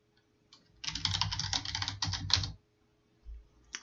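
Someone types a password on a computer keyboard: a quick burst of clustered key clicks lasting about two seconds, close and clear, then a brief pause and a couple of soft taps at the end.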